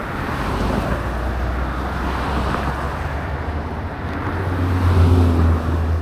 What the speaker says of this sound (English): Look how fast this car is going.